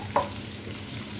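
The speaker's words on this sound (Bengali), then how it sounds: "আমার তেলটা গরম হয়ে গেলে এখন আমি রসুন দিয়ে দিব।" Chopped garlic frying in hot oil for a restaurant-style greens dish, heard as a brief sharp hiss as it hits the pan, settling into a steady close sizzle.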